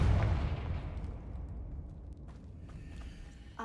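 A Confringo blasting spell goes off in Hogwarts Legacy, one loud booming burst up front that decays into a long rumbling tail, with a small crackle near the end.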